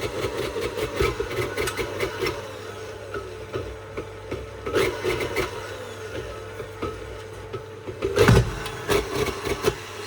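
KitchenAid stand mixer running at low speed with a faulty, rough sound: a steady motor hum with uneven rattling pulses and a louder surge near the end, heard alone.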